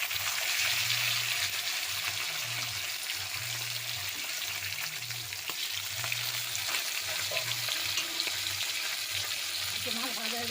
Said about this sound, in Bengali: দুটো মাছ দিলাম, একটু ভাজা হয়ে গেলে আস্তে করে উল্টে দেবো